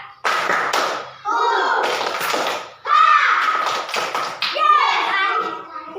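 Schoolchildren in a classroom shout the 'tepuk semangat' spirit chant together, punctuating it with loud, sharp rhythmic claps in quick bursts, voices and hand claps mixed close to the microphone.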